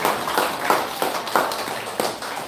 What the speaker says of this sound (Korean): 자, 우리 자 박수로 우리 감사합니다